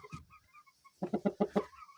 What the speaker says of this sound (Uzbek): Chempion xo'roz.